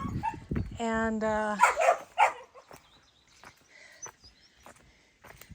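A dog in a backyard garden barks several times in quick succession near the listener, with a few yips and short whimpers, while a person's voice speaks briefly over it.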